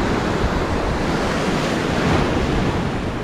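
Ocean surf crashing and rushing on a Virginia Beach shoreline while surf fishing for redfish, a continuous loud roar of waves with wind buffeting the microphone and no voices.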